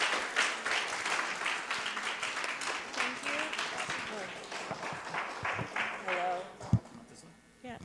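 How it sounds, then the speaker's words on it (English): Audience applause at the close of an evening talk, a steady wash of clapping from a room of people that thins toward the end, with voices faintly mixed in. "Another round of applause for Dr. Anton Treuer"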